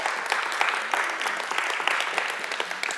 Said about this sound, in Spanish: denle un aplauso al Señor, bien animados